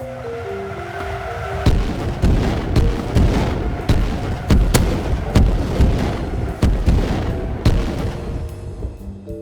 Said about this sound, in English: that's 3 rocket MLRS barrages we've seen there